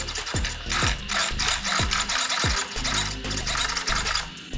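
Arrma 8S RC car's drivetrain under light throttle, giving a close, loud gritty whir with repeated quick downward-sweeping whines as it is blipped in bursts, with no talking.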